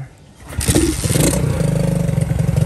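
A Honda SL70 motorcycle cranks and catches, then its small single-cylinder engine settles into a close, loud, rhythmic idle with a mechanical clatter.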